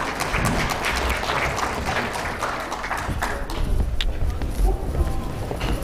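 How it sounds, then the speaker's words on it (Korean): A lecture audience at a job-training session in a hall applauds steadily. The dense, continuous clapping holds at an even level throughout. "여러분 인사 박수 부탁드리겠습니다"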